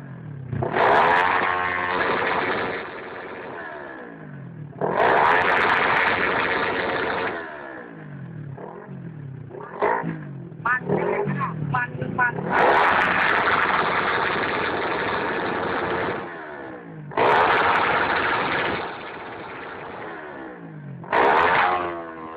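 A motorcycle engine revving on its own with no rider, surging loudly in repeated bursts of acceleration and dropping back toward idle between them, close and continuous over about twenty seconds.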